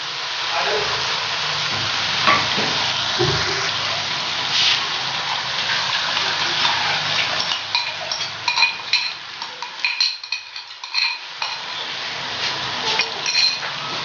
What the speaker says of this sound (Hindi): इसे तेज़ आग पर फ्राई करेंगे।